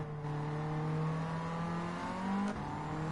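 Ford Sierra RS500 engine in Gran Turismo 7 held high in the revs, a steady, loud buzzing drone that climbs slightly in pitch, then briefly dips and recovers as the throttle changes near the end.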